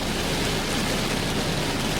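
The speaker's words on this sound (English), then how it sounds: "That's unbelievable rain." Heavy rain pours down in Fermanagh, a loud, dense, unbroken hiss close by that swamps everything else for the full two seconds.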